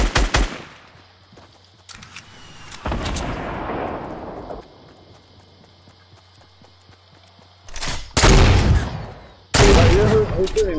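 Fortnite gunfire comes in loud, sharp bursts. An opening shot is followed by a short volley, then after a quieter stretch two heavy rapid bursts land near the end, with faint game ambience between them.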